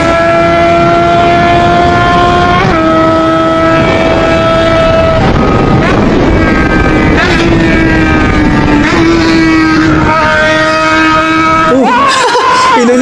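A rider's motorcycle engine revs loudly on the road, with shifting tones that climb and drop through gear changes over constant wind noise, and a voice is heard talking faintly over it.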